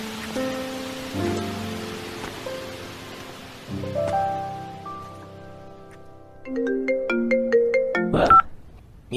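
A phone ringtone plays a melodic electronic tune on its own, rising in loudness toward the end.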